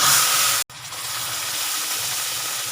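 Hot milk poured into roasted semolina and ghee hisses and sizzles loudly in the pan, a steady close steaming sizzle with one brief break before it continues.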